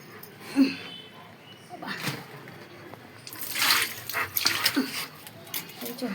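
Water splashes and runs as feet are washed, in uneven bursts that swell near the end, with faint background murmuring.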